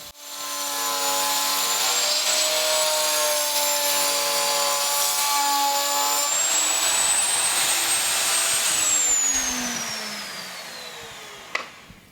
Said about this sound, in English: By setting the fence, I can confidently run the board through and know that the dado will be cut